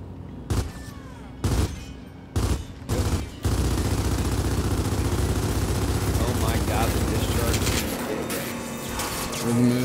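Video game gunfire in Gears of War 4 aimed at a core, four sharp bursts of shots in quick succession, then a sustained roaring discharge that fades slightly toward the end.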